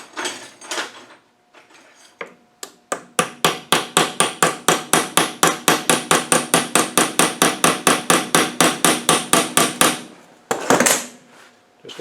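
A hammer drives a small chisel on an R380 gearbox at the workbench, about thirty sharp metallic blows in a steady, rapid rhythm, close and loud, with a few scattered knocks before and after.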